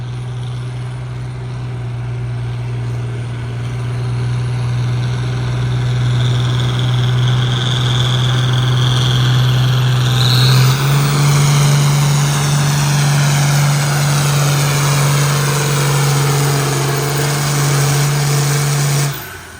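Allis-Chalmers tractor pulling 8,500 pounds at a tractor pull, engine at 3,000 RPM roaring loud and steady up close, holding a constant drone for nearly twenty seconds, pitch rising slightly midway before cutting off at the end.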